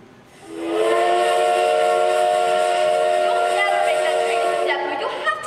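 A train whistle sound effect in a school stage production of The Music Man blows one long, loud, steady chord-like steam-whistle blast with a breathy hiss, cutting off near the end.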